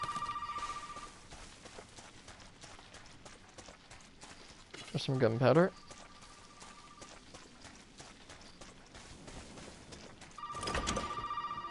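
Phone ringing in the video game Resident Evil 7, a steady electronic ring at the start and again near the end, under a person talking, with a louder burst of clattering game sound in between.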